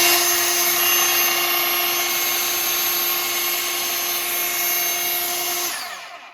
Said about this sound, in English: Sounds like your typical belt sander.